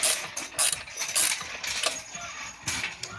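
Quiet metallic clicks and ratcheting from a wrench spinning a nut onto an exhaust stud on a VW MK4 GTI 1.8T, coming in several short, irregular bursts close to the microphone.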